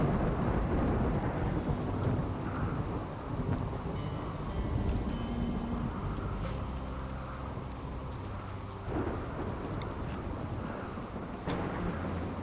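Rain and rolling thunder from the RimWorld video game, a steady wash of rainfall with low rumbling thunder throughout, no voices.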